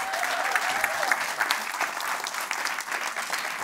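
A comedy club audience applauds as a comedian walks onto the stage: steady, dense clapping with a few scattered cheers, sustained at an even level throughout.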